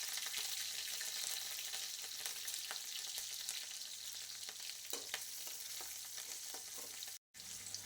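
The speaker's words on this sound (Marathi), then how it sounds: "तेल आपलं तापलेलं आहे, त्यामध्ये टाकणार आहे मोहरी, जिरं, लसूण," Mustard seeds, cumin, garlic and chilli sizzle in hot oil, a steady close frying hiss broken by scattered sharp crackles and pops from the seeds, with one brief cut to silence near the end.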